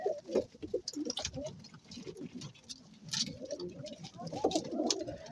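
Pigeons in a coop coo and rustle close by, soft throaty calls layered with fluttering and shuffling, and a person's voice is briefly audible underneath.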